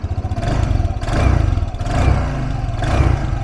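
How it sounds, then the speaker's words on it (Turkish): An RKS SC150 scooter engine revs in several rising bursts close by, its full exhaust note throbbing and rumbling between each push of the throttle. "çok güzel böyle dolu bir egzoz sesi var bak dinleteyim."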